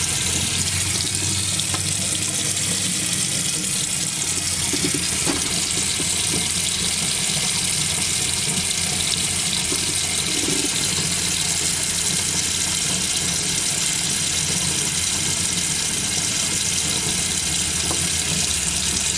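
Water rushes steadily from a Roadtrek RV faucet while the system is flushed, a loud, continuous hiss with no breaks and no voices.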